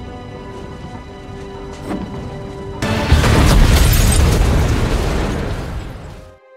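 A tanker truck blows up in an action film: a loud booming blast erupts after a quieter stretch, then a sustained roaring, crackling burst that slowly fades out.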